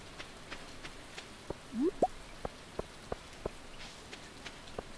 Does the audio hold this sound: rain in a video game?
yes